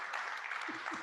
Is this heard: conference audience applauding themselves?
yes